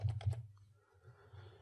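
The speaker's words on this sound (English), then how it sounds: "start typing Verdana." Rapid keystrokes on a computer keyboard, about three or four close, distinct taps at the start followed by quieter clicking, with no voice.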